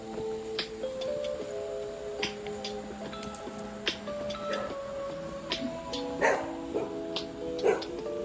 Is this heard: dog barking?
yes